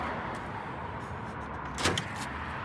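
An old used police car gets locked: a single short mechanical clunk of the door lock stands out briefly over a steady, noisy outdoor background.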